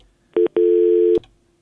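A telephone busy signal sounds as two steady electronic tones, a short beep and then a longer one, loud and clean with no talk over them.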